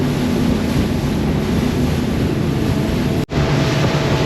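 A fast yacht running at about 30 knots passes near a small boat crossing to Bimini, its large wake giving a steady loud rush of water and wind noise with one brief dropout near the end.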